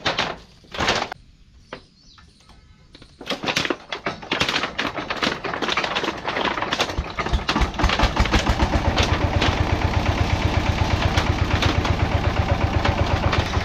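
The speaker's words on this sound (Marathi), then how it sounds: "ट्रॅक्टर चालू झाला एकदम मस्त मध्ये." A farm tractor near a sugarcane field cranks and catches after a few sputtering attempts, then settles into a loud, steady, rapidly thumping idle close by.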